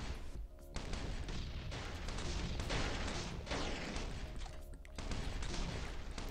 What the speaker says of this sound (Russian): последний взрыв